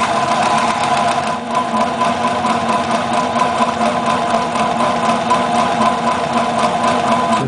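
A TuffSew portable industrial walking foot sewing machine runs steadily under pedal control, a loud, close, continuous mechanical whir with fast even stitching rhythm throughout and a brief dip near the start.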